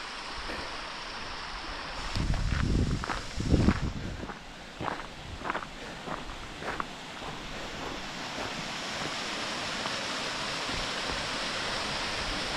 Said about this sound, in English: There we go, first real waterfall, not looking bad.